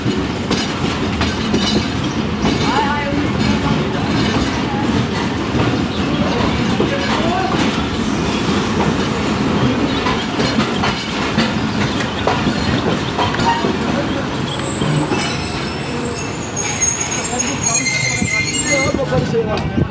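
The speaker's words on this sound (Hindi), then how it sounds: "प्लेटफॉर्म नंबर 4 पर अराइवल हो रही है।" A train arriving at platform number 4 of a railway station on a journey toward Karachi, with loud continuous rumbling and rattling wheels, clattering carriages and high squeals near the end, close and steady throughout.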